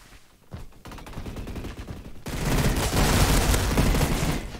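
Saiga shotgun fire in a game, a fast stream of loud, dense shots that swells into a heavy, continuous barrage in the second half.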